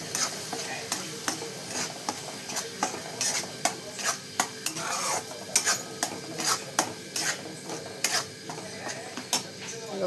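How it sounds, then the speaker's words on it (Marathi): Garlic, onion and tomato paste being stirred into a frying chicken masala, a constant sizzle broken by repeated scraping strokes and clinks of a spoon against the pan at a steady rhythm. "मी लसूण, कांदा आणि टमाट्याची पेस्ट टाकून घेतली, आणि ती पण आपण छान अशी मिक्स करून घेऊया"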